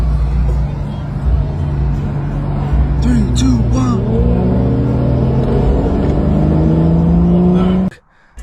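A BMW M2 fitted with a downpipe accelerates hard, its loud, close engine note climbing steadily for several seconds before cutting off abruptly near the end.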